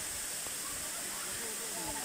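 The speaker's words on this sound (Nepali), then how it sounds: "पानी चाहिँ मजाले आयो हेर्नु कस्तो दामी झर्ना कि है" Water from the Thaandi waterfall in Tanahun pours down as a steady, even broadband rush, quiet and distant-sounding, continuing without a break.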